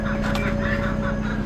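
Older hens at an Amish animal auction give a short, close burst of clucking with no talk over it.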